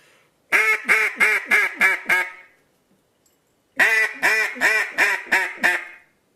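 A Haydel duck call, blown by a person to imitate ducks, sounds two loud, close sequences of about six evenly spaced quacks each, separated by a short silence.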